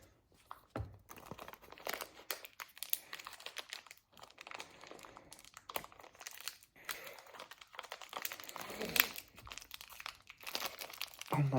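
Plastic and cardboard packaging from a Nerf Elite Triad EX-3 blaster is torn open up close, with irregular crinkling and ripping bursts at modest volume, and a voice is heard now and then.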